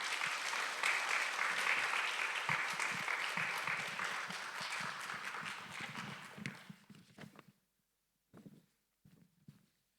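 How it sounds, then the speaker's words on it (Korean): Church audience applauds to welcome a speaker, loud sustained clapping for about six seconds that fades out, followed by a few faint sounds in near silence. "박수로 환영해 주시기 바랍니다"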